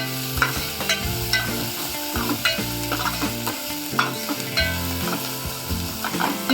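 Spices fry in a little oil for rasam while a spoon scrapes and stirs them around the pan, a close, busy sizzle with irregular clanks and no speech.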